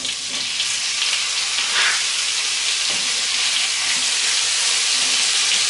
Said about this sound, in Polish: Teraz obsmażam mięso.